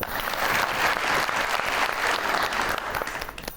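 An audience at a comedy talk show applauds, a dense, even burst of clapping from a large crowd that stays loud for a few seconds.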